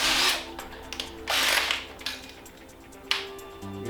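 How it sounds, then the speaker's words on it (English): An 86mm hole saw on a low-speed drill cuts into a panel during a Subaru Forester snorkel install, with bursts of grinding separated by short pauses, close and moderately loud with no talking. "I've got a 86mm hole saw here that I'm going to use."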